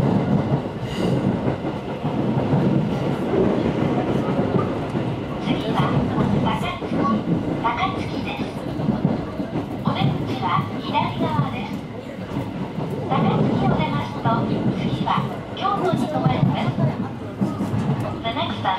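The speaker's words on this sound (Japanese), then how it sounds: "普通電車は制限がないので加速していく" An electric local train picks up speed after leaving Shin-Osaka, alongside a Special Rapid Service train running at low speed, with a steady rumble and rhythmic wheel clatter throughout, while someone narrates continuously over it.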